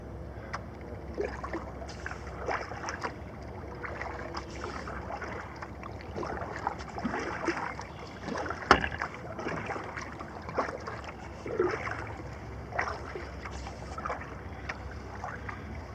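A canoe on a creek in fall is paddled with a double-bladed paddle: soft, repeated water strokes and drips come in an irregular rhythm, with one sharper knock, quiet and close against faint outdoor background.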